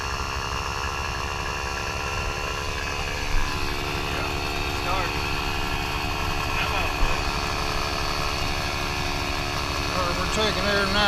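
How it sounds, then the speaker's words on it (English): A boat motor runs steadily after starting, a continuous loud drone with even harmonic hum that holds throughout, with a couple of brief knocks. "Get a lot more power if you start the motor."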